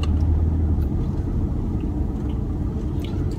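Steady low road rumble and engine hum come from inside a BMW 530d xDrive Touring diesel estate driving short distances, constant and close with no speech.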